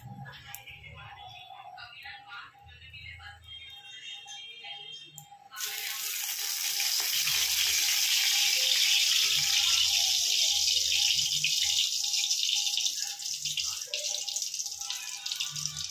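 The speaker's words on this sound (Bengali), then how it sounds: "এবার আমি এক এক করে এই গরম তেলের মধ্যে কিন্তু মাছটা ছাড়বো।" Salt-marinated hilsa fish pieces dropped one by one into hot oil in a wok, setting off a loud, steady hiss of frying that stays strong after an abrupt start, with faint utensil clinks and a quiet voice beneath.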